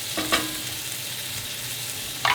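Fish frying in butter in a pan that is moved around on the stove, a steady soft sizzle with faint stirring and a brief louder scrape near the end, no talking.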